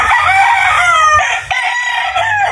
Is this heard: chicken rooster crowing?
yes